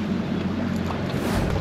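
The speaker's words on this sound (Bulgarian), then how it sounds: "Почва духа здравата." Strong wind gusts on a Danube river island, a dense, steady roar buffeting close against the microphone for the whole short stretch, with no talking.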